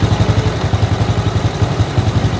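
A Honda Supra X125 motorcycle idles low and steady with a worn, loose crankshaft bearing seat, giving an even, rapid pulsing thump with a faint clattering edge, close and alone.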